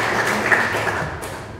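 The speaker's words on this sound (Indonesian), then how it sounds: "Sekali lagi kasih tepuk tangan untuk Tuhan." A church congregation applauds during a sermon, a dense, even wash of clapping from many hands that holds steady throughout.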